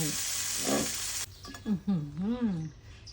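Garlic butter spread on bread sizzles loudly in a frying pan, a dense hiss that cuts off abruptly, followed by someone speaking.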